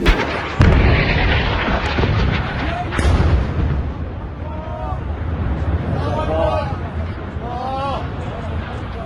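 Bombs from an Israeli bombardment in Lebanon go off as two heavy, booming blasts early on. Excited voices and crowd chatter follow over a rumbling background.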